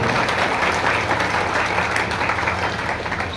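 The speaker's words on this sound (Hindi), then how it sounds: "ऐसे ब्राह्मण देवताओं के लिए जोरदार ताली बजाएं" A crowd at a Bhagavat Katha religious gathering applauds steadily and loudly, a dense continuous wash of clapping with no pause, and no one speaking.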